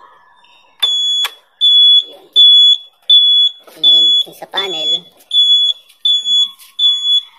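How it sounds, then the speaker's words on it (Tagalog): Sharp, high electronic beeps from an EcoDrive Blitz 2000r electric scooter's turn signal repeat in a steady rhythm, close and loud, while a person speaks briefly over them. "Signal lights naman niya, may tunog."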